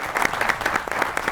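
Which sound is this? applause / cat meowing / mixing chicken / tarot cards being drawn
applause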